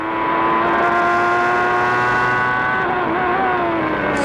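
A 1994 Formula 1 car at the Japanese Grand Prix screams at high revs, its engine note holding loud and steady with a slight dip in pitch near the end, unaccompanied by voices.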